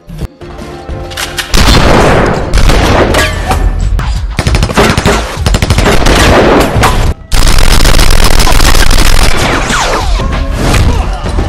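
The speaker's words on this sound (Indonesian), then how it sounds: "terjadilah baku tembak di tempat tersebut" Loud, rapid bursts of gunfire in a shootout crackle almost nonstop, with a brief pause midway before the shooting resumes just as intensely.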